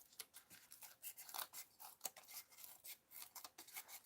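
Scissors cutting material on a rag doll, with a quiet series of close snips and rubbing of fabric, repeated in an uneven rhythm.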